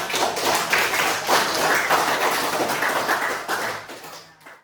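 A classroom of students applauds classmates who asked questions, dense close clapping from many hands that goes on steadily for several seconds and then fades out.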